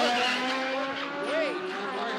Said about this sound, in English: Locked up his brakes and had no place to go but onto the escape road